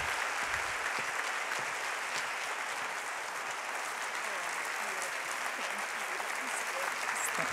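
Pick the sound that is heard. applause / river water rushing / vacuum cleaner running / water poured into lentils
applause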